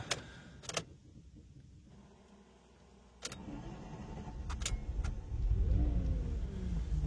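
A Ferrari sedan with a weak battery cranks and its engine catches, a few close clicks and clunks giving way to a steady idle that swells louder near the end.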